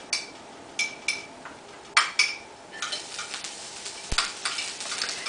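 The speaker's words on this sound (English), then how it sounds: "I'm using avocado oil today, but you can also use olive oil. A little bit of oil. And we're going to just saute the garlic." Garlic sautéing in a little avocado oil in a pan, heard as a light sizzle under sharp clinks and taps of a utensil against the pan, with a brief low thump near the end and no talking.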